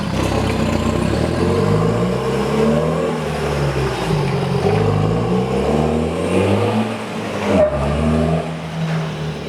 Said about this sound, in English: this intake hiss, the turbo whistle you can hear very loudly because there's no sound deadening